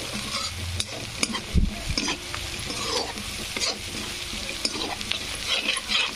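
Masala frying in a pan for a Marathi potato curry, a steady close sizzle with stirring scrapes and occasional clinks throughout, no talking.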